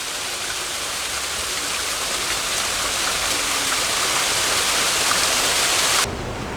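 Waterfall in a Japanese Tea Garden pouring steadily into a pond, a loud, continuous broadband rush close by that holds even throughout and cuts off abruptly near the end.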